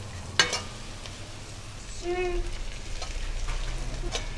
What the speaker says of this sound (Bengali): এবার এক এক করে সমস্ত সবজি এবং ডিমের ভুজিয়াটা